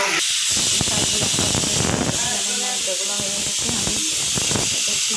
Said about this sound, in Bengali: শাকগুলো আমি তেলের মধ্যে দিয়ে দিলাম